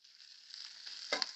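Hot oil sizzles steadily with ground spices for a home-style sweet soy egg dish, a close, continuous frying hiss with a brief clatter near the end, no voices.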